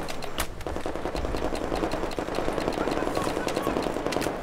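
Rapid bursts of gunfire in Battlefield 4 crackle continuously, with dense automatic shots and sharp single cracks layered over a busy background.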